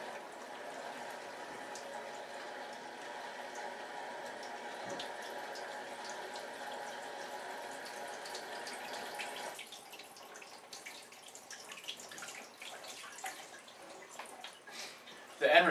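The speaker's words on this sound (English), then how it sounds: "You want moving water over your print for 5 minutes." Running water rinses a photo print in a darkroom tray, a faint steady trickle and patter that thins out partway through, with a louder knock at the very end.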